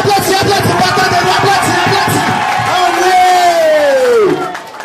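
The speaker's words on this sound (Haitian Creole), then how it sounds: "Vous avez applaudi." A loud, dense crowd roars and cheers continuously, with shouts and whoops rising above the noise before it fades at the end.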